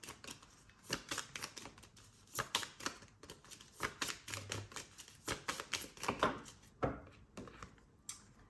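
Tarot cards drawn and shuffled from a deck make a quiet run of crisp, papery flicks and slaps that come in irregular bursts, close to the microphone, with no voices.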